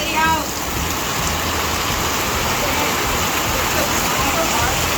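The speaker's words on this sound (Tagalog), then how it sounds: "Guys, ang lakas ng ulan dito guys." Heavy rain pours continuously, a dense, even hiss of drops drumming on surfaces throughout, with a faint voice at the very start.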